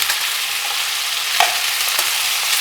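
Okra (bhindi) sizzles steadily as it is stirred and tossed in a pan over a high gas flame, a continuous close hiss with a few soft scrapes and no voices.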